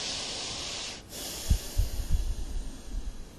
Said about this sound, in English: Take a nice deep breath here.